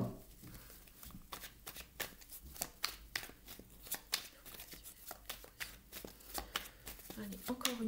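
Tarot cards shuffled and cut by hand in a series of crisp, rapid riffles and slaps, close and fairly quiet, with a voice talking over them.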